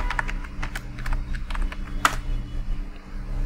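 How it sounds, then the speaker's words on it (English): A root password is typed on a computer keyboard, a close, fairly loud run of quick irregular key clicks with one sharper tap midway, over a faint steady hum and no talk. "Then again type root password."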